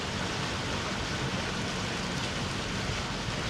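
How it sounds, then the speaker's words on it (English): Steady broadband water wash with a faint low rumble from the electric motors, heard from the back deck by the dinghy of an electric boat under way; constant and close, no talk. "You hear water noise, you hear a little bit of a rumble from the motors."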